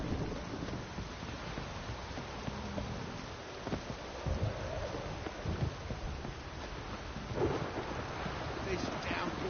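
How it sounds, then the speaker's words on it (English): Steady heavy rain from a downpour in The Witcher 3, with low rumbling thunder swelling at moments over a continuous wash of rainfall and wind, loud and close throughout. "This downpour's a bastard,"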